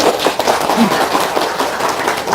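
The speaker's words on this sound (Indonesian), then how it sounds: "Tepuk tangan dong." An audience at a talk bursts into dense, steady applause, loud and close, with many hands clapping at once and no voices on top.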